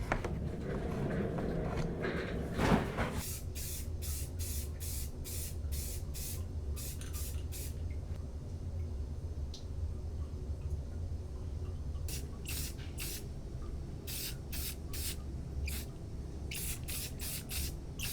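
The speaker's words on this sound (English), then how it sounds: "So when laying on your base coat, especially with spray paint, you want to make sure that you don't layer it on too thick." Spray paint laying a white base coat on a hand-carved wooden bluegill: short hissing bursts in quick clusters, close and clear over a steady low background hum, after a brief handling knock.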